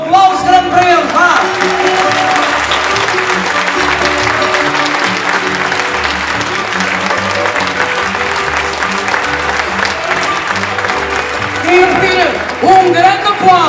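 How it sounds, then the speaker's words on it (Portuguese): An audience at a fado concert claps loudly and steadily throughout, with scattered shouts and cheers, while a voice speaks over the applause. "um aplauso grande para ele"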